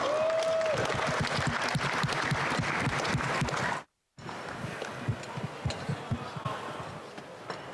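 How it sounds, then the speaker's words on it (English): A room at a boxing post-fight press conference for Mayweather vs McGregor breaks into applause, with brisk, rhythmic clapping broken by a brief total dropout, then resuming with sharper individual claps. "Let's give him a big round of applause."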